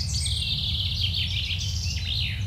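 A bird in the DC area calls in a rapid run of high, warbling chirps, close and clear over a steady low rumble of background noise.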